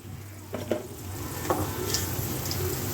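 Three spoons of coriander seeds dropped into a hot pan while making a gongura preparation give a few light rattling clicks over a continuous low sizzle, close and steady, with no speech.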